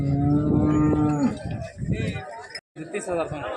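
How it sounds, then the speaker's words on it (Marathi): Cows moo loudly at a busy cattle market, one long close bellow followed by shorter calls, while people talk and bustle around the animals. "अशा प्रकारच्या गायी या वैरागच्या बाजारात आलेल्या आहेत"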